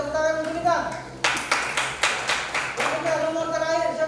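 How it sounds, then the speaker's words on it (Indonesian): A classroom bursts into brief rhythmic clapping for a student between teacher's speech, several sharp hand claps close together lasting about a second and a half. "tepuk tangan untuk Bintang"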